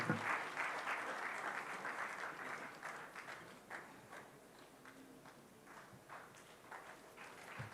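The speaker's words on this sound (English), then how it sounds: "I thought we'll keep the applause up." Audience applause at a book launch event in Nigeria, a sustained crowd clapping that starts strong and gradually thins and fades over several seconds, with no talking over it.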